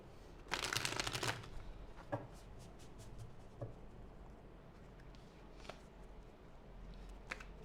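A deck of tarot cards is shuffled in a quick, close riffle of dense flapping, followed by scattered soft taps and card slides at a quiet level, with no talking.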